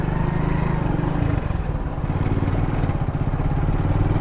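Steady engine drone of motorcycles and other vehicles crossing at a national highway junction, a continuous close, loud rumble with slight fluctuations as bikes and cars pass from one side to the other.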